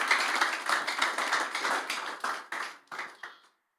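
A church congregation claps together during a Tuesday worship service, a dense burst of hand claps that thins into a few scattered claps before stopping.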